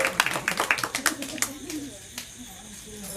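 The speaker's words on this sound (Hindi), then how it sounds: "एक बार जोरदार ताली हो जाए हम दीदी के लिए" A small audience at a live village comedy show clapping in a brief burst of sharp, rhythmic claps over the first second and a half, fading out as a voice continues.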